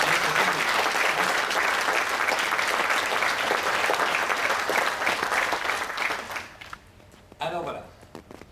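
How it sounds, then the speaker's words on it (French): Sustained applause from a crowd at a trade union conference, loud and steady for several seconds before fading out, followed by a brief voice. "je vous souhaite qu'on applaudisse tous les organisateurs et tous ceux qui ont participé à cette réunion"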